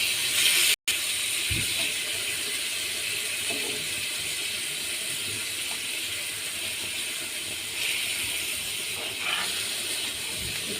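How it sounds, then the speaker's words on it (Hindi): Chicken pieces frying in a pan for a paratha roll filling, a steady broadband sizzle and hiss running throughout with a few soft clinks, with no voices. "हमने चिकन को 2 से 3 मिनट तक भूनना है अच्छे से"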